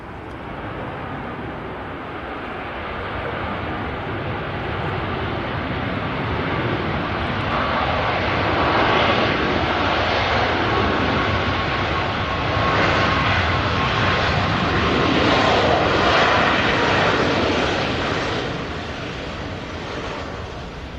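A jet airliner at Manchester Airport roars steadily on the runway, a loud broadband engine rush that swells and fades slightly as it rolls past close by.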